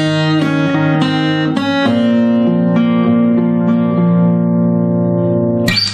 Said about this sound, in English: the whole of these 2 bars goes like this